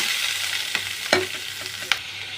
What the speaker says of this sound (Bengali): পেঁয়াজটা হালকা ভাজা হয়েছে, এবার এগুলো দিয়ে দিব।